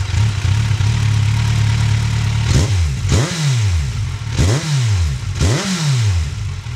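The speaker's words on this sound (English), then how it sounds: "let's see what the stock exhaust sounds like that's on there now" A Kawasaki Z1000 on its stock exhaust idles with a steady low rumble, then revs sharply four times, each blip rising and falling back to idle.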